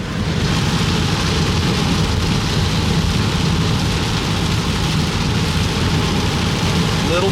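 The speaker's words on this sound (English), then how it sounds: "A little bit of rain, y'all," Heavy rain pours steadily onto a van on a road trip through Wisconsin and Minnesota, a loud, constant close hiss with a low rumble underneath and no voices.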